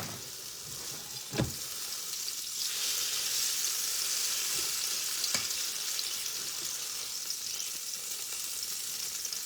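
Fish sizzling and frying steadily in a pan for Filipino ginataang langka, a loud continuous hiss with a couple of sharp clinks from utensils, no talking.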